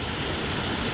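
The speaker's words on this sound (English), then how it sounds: "here's another view of the waterfall from another angle" Whangarei waterfall flowing, a steady, even broadband rush of falling water that holds constant throughout, with no voices present.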